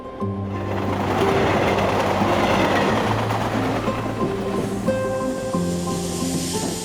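A commuter train heading toward Kalyan runs on its tracks with a steady rumbling roar and rhythmic wheel clatter, close and continuous throughout, with tonal hums from the carriage.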